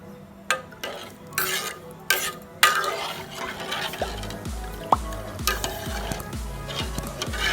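Pepper rasam with tamarind water being stirred in a pot on high flame: a steady scraping stir over a constant sizzling bubble, with a few sharp spoon clinks on the pot rim early on, close and alone.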